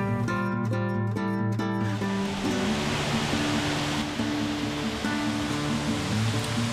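Roaring Brook Falls, a waterfall in the Adirondacks, gives a steady broadband rush of falling water at moderate level, while a held musical tone plays over it.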